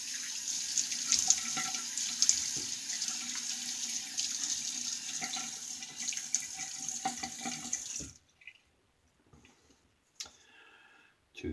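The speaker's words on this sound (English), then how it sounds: "Let me wet my face a little bit." Tap water runs steadily into a sink while a man wets his face before a shave, close and continuous for about eight seconds, then stops, leaving faint drips and a few clicks.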